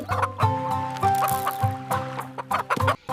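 Roosters being fed in a village yard give repeated close clucks and short throaty calls in an uneven rhythm, with nearby bird chatter mixed in.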